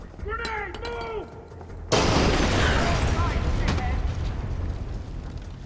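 A grenade blows up in the stealth shooter Splinter Cell Conviction: after a brief shouted voice, a sudden loud blast erupts and rolls on as a sustained, rumbling roar that fills the rest of the moment.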